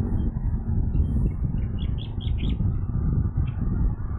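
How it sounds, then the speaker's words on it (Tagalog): Birds chirp in short bursts in a mangrove over a steady low rumble of outdoor background noise, the calls fairly faint and scattered. "Oh, ganda ng tunog ng mga ibon, mga huni ng ibon"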